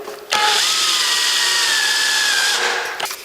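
A small power drill bores through a necklace component for about two and a half seconds, a steady whining buzz that starts abruptly and ends with a brief rattle.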